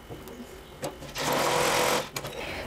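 A sewing machine runs a steady edge-stitching burst along a blouse seam for just under a second, with brief quieter mechanical clicks and handling before and after, close by and moderately loud.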